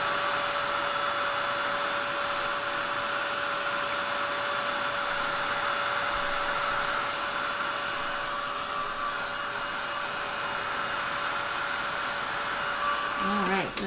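Heat tool blowing steadily across a mini canvas to heat-set Quick Quotes powder ink, a constant close whirring hum with a steady airy whine that tapers off near the end.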